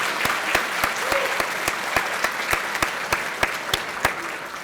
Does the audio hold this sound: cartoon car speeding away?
no